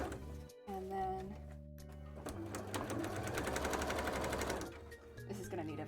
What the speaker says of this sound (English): this is going to need a very firm top stitch